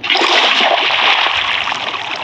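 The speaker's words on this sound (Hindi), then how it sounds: "वाटर बकेट ट्रिक बड़ी सही रहती है।" Water gushes out of a bucket in the video game Minecraft, a loud, steady splashing pour that lasts a couple of seconds with no talking.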